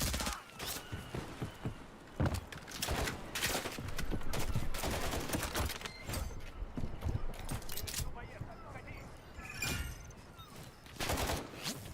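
Rapid gunfire in the shooter game Modern Warfare 3, bursts of sharp shots and clattering volleys in irregular clusters, fairly close, with a voice talking intermittently over the fighting.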